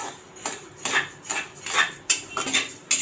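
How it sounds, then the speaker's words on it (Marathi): Repeated scraping and clinking of a spatula stirring rice as it dry-roasts in a hot kadhai over medium gas, close and rhythmic with sharp metallic strokes roughly every half second, no voices. "आपले इथे तांदूळ चांगले भाजले जात आहेत। कढई आपली चांगली तापलेली आहे।"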